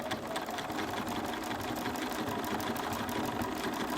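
A sewing machine stitches steadily through a minky quilt, a continuous close mechanical whir with a fast, even rattle that runs without pause.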